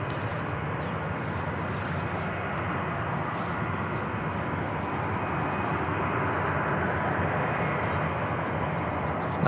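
A C-17 military transport aircraft at Christchurch Airport in wet conditions gives off a steady, unbroken jet roar that holds at an even loudness throughout, with no talking.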